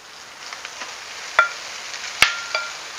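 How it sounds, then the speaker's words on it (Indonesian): Fried rice stir-fried in a pan gives a steady, even sizzle throughout, with a few sharp clicks and scrapes from the spatula striking the pan. "Lalu kita masukkan"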